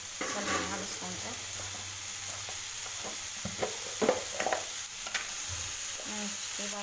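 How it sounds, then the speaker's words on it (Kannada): Tomatoes frying in a pan while being stirred, a steady soft sizzle with scattered scraping and clinking of the spoon against the pan, close and fairly quiet, with no speech. "ಇವಾಗ ಸ್ವಲ್ಪ ಟೊಮೊಟೊ ಹಾಕ್ಕೊಳ್ಬೇಕು. ಸ್ವಲ್ಪ ಬಾಡಿಸ್ಕೋಬೇಕು."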